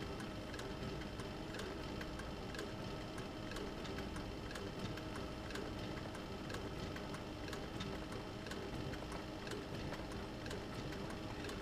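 A leather-sewing machine fitted with a motor and speed reducer runs flat out at full pedal, a steady fast mechanical whir with an even rapid ticking of the needle throughout, with no talk.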